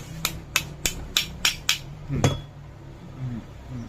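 Six sharp, evenly spaced hammer taps ring out close by as a Bosch GWS750 angle grinder armature is knocked into place, followed by a heavier thud and faint low shuffling.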